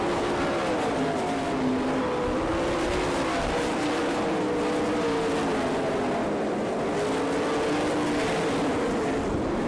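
Race cars from the All Star Circuit of Champions at Florence, Kentucky, roar around the racetrack together, a loud, continuous engine drone with shifting pitch as the pack passes, with no talking.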